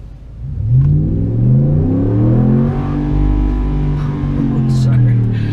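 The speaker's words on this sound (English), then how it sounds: "Engine just never stops sounding amazing" A 2017 RAM Sport Night Edition 4x2 pickup with a 5.7L V8 accelerates hard, its deep engine note climbing steadily through the revs, loud and close.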